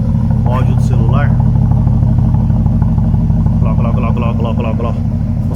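A BMW 550 engine idles with a steady low rumble after starting, its loud continuous drone running throughout while someone talks over it nearby.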